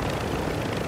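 Helicopter rotor and engine drone in a video game, a steady dense whir held at a constant level with no talk over it.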